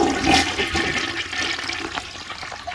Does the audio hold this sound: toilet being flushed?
yes